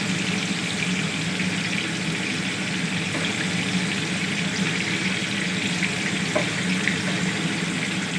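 Chicken pieces fry gently in a karahi over a low flame, making a constant soft hiss and sizzle with an occasional faint pop, and no voices.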